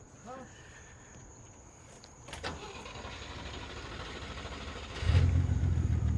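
AMC Rambler wagon engine starting with a manual clutch: quiet cranking clicks, then the motor catches and settles into a loud, rough idle that steps up near the end, with faint talk nearby.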